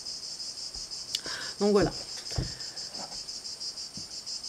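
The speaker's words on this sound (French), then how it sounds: "Ah non, c'est pas les grillons, c'est la cigale" Cicadas drone in a steady high buzz through a summer day, continuous in the background while a person speaks briefly and something rustles nearby.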